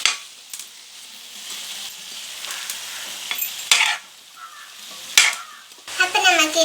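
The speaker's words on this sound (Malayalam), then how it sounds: "ഇനി നമുക്ക് ഇതിലേക്ക് കുറച്ച് ഉപ്പ് ഇട്ട് കൊടുക്കാം. ഇനി നമുക്കിത് ഇളക്കി കൊടുക്കാം" Salted food, with green chillies added, frying and sizzling in a pan while being stirred, with a steady close hiss and several sharper scraping strokes; a brief voice or clatter at the end.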